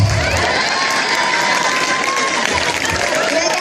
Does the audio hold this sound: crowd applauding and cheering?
yes